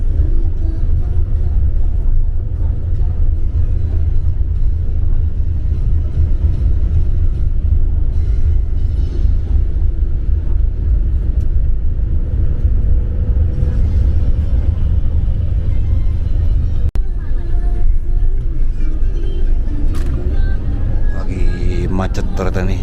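Car travelling in slow traffic on the Cipularang toll road near Bandung, Indonesia, a constant low road rumble and engine drone inside the cabin with occasional faint clicks and rattles.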